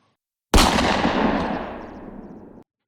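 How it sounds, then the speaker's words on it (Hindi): A single loud, close gunshot from a firearm fired in a room, a sharp blast followed by a long decaying reverberant tail lasting about two seconds, with no other sounds. "उसी समय फिर से एक गोली चलने की"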